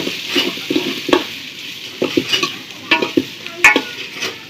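Sliced onions sizzle and crackle in hot oil in a pan being readied for meat, with a steady frying hiss broken by repeated scraping stirs and clacks of a spoon, close and fairly loud, no talking.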